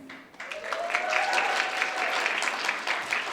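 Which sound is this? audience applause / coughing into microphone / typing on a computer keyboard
audience applause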